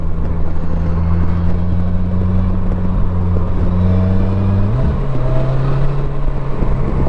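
Polaris Slingshot SLR three-wheeler engine droning steadily under load, then a quick rise and drop in pitch as the automated manual gearbox downshifts, followed by a steady lower hum; loud, close and without talking.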